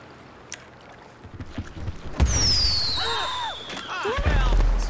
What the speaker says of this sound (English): Just a fireworks launcher.